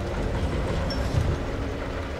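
A train rolls along rails in the Quantum of Solace video game, a steady low rumble with faint rhythmic clatter and a brief metallic whine, continuous and fairly loud without speech.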